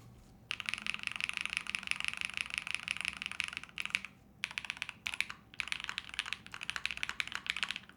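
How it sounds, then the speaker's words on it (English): Steady clacky typing on a custom-built Brutal V2 mechanical keyboard, close up, with rapid keystrokes in bursts separated by a few brief pauses. "It's a really good feeling keyboard."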